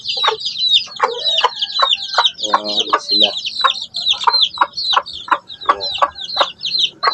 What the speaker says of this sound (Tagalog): binalik ko na yung inahin dito sa loob